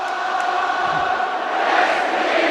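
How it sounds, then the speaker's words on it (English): Stadium crowd at the Gabba singing a cappella during an AFL match between Brisbane Lions and Collingwood, a broad, steady wash of many voices filling the ground without music, sustained and loud throughout. "the crowd now a cappella across the Gabba"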